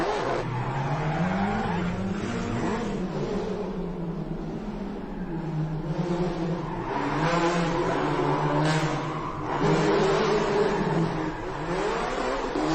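A Gymkhana car performing a parallel-park drift, its engine revving hard and rising and falling in pitch while the tires squeal and skid, loud and continuous throughout.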